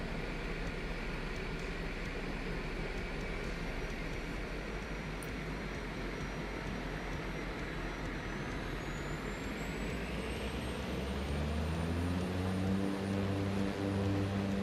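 Airbus A321 engines in the Flight Sim Labs flight simulator, a loud, steady jet roar with a constant deep rumble, rising in pitch toward the end as the engines spool up.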